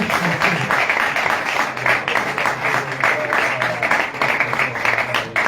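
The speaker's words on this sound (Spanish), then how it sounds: "dale ese aplauso a Dios" A church congregation gives God a round of applause, with many hands clapping in a full, steady burst and a faint murmur of voices beneath.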